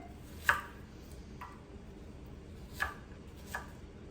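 A knife chops onions on a board in a quiet kitchen, with three or four sparse, isolated knocks spaced irregularly, fairly faint and with no voices.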